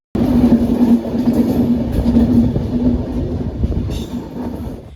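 A train on the hill railway from Vizag to Araku rumbles along the tracks close by, with a steady rolling roar, rhythmic wheel clatter and a faint metallic squeal.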